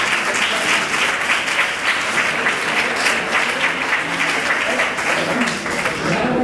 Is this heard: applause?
yes